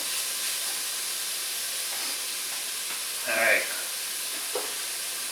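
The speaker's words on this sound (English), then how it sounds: "this is going to simmer for a while" A pot of softened onion and stock for ropa vieja simmers with a low, steady steamy hiss, broken by a brief clink and one short spoken word.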